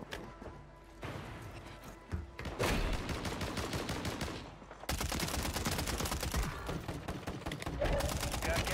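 XM4 submachine gun fire in Warzone, rapid sustained bursts that start around two seconds in and continue loud and dense to the end, with a brief break near the middle.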